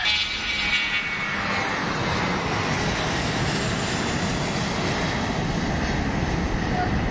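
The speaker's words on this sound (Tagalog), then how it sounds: "Sakto nga mga kabads ay may dumaan na eroplano." An airplane flies overhead near an airport, its engine a loud, continuous broad roar that stays steady and close for the whole stretch.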